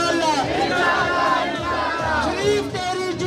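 Large crowd at a political rally (jalsa) loudly chanting a slogan in unison, a dense roar of many voices sustained throughout without pause.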